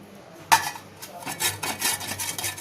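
An onion rubbed against a hand grater over a plate gives a run of close, scratchy rasping strokes in a steady rhythm, with no talking.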